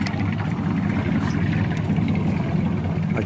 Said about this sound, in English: powered by a Buchanan V8 185 horsepower engine